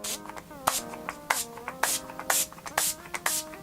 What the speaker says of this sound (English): I am going to spray a little bit of the Makeup Forever Chill Makeup Setting Spray